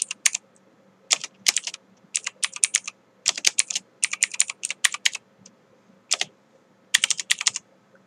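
Bursts of clicky keystrokes on a computer keyboard while entering text in Adobe After Effects 2020, quick irregular clusters of key presses separated by short pauses, close and clear with no voices.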